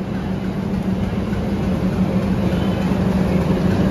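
A diesel locomotive pulls into platform 7 at Chennai Central ahead of the Chennai–Bangalore double decker train, a steady low engine rumble and broad rail noise holding at an even, fairly loud level throughout.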